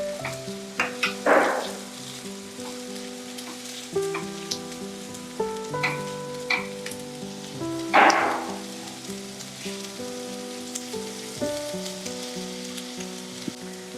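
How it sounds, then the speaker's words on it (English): Green chilies lightly frying with onions that are starting to brown in a pan for a Goan egg curry, a soft steady sizzle with a couple of louder crackling bursts when stirred, over background music. "The onions are changed color and they are just about to start browning, so adding the green chilies now. Just lightly frying."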